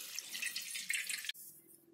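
Water poured slowly from a vessel onto wheat flour spread under a soft cloth, a steady close splashing trickle that runs for over a second, then stops abruptly and leaves a faint low hum.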